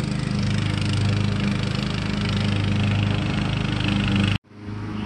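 Lawn mower running in a backyard, a loud steady engine drone with a low rumbling hum that holds for several seconds and then cuts off abruptly, followed by a short quieter tail.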